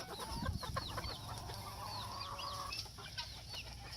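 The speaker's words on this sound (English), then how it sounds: "He's a clean little rooster." A small rooster and backyard chickens cluck steadily and close by, with overlapping calls and faint chirps over a quiet outdoor background, no talking.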